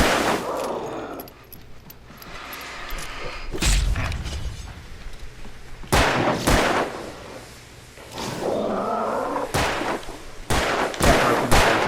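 Gunshots in Alan Wake Remastered: several loud, separate shots and heavy thuds spaced irregularly over a murky game ambience, with quieter stretches between them.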